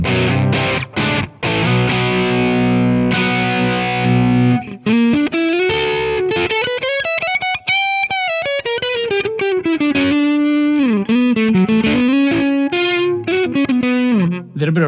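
Electric guitar runs through the AmpliTube 5 amp simulator with distortion and effects, loud chords and bends, then a sustained sliding lead line that rises and falls, played alone.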